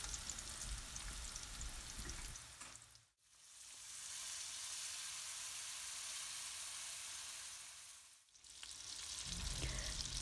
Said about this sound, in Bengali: এখানে পুরনটা বাজরাম আমি